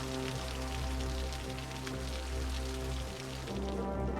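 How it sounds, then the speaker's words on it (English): Steady rain from the city-building game Cities: Skylines patters in a dense, even hiss, heard under sustained musical tones, with no voices present. "we gotta zoom out to get away from that rain sound"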